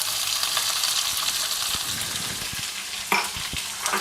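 Large onions go into hot oil for poori masala, producing a continuous bright sizzle with a few stirring knocks and scrapes against the pan, close and moderately loud, with no voices.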